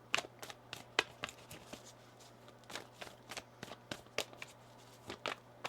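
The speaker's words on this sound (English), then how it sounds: "One more shuffle here." Tarot cards shuffled by hand in a quiet room, a rapid series of crisp riffling flicks and soft slaps in uneven bursts, close and moderately quiet over a steady low electrical hum.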